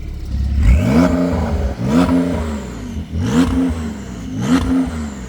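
A car engine revs hard four times in a row, each burst rising and falling in a loud mid-pitched roar, heard near and alone with no talk, at a police and sports-car lighting event.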